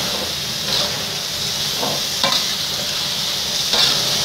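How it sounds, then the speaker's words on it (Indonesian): Squid is stirred into sizzling red chili spice paste with stink beans in a pan, making a constant hissing fry broken by a few scraping spatula strokes. "Sekarang masukkan cuminya, diaduk-aduk lagi sampai rata."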